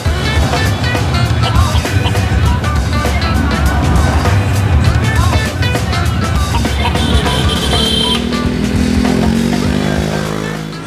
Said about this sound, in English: This is how we're getting around in this video. We're on a tuk-tuk.